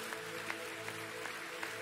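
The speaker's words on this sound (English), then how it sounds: "Let's give the Lord a hand clap of praise." Church congregation clapping hands in praise, a faint steady rhythmic clapping with regular accented beats about every third of a second over a low droning background.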